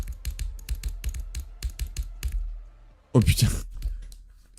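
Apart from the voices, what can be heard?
computer keyboard clicking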